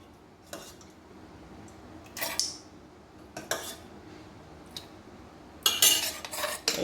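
A spoon stirs curd into ash gourd pachadi in a bowl, giving a few scattered metallic clinks and scrapes, with a sharper cluster of clatter near the end and no talking.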